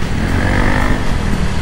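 A motorcycle close by on a wet road along EDSA, a loud continuous engine roar mixed with hissing tire spray, with no talk.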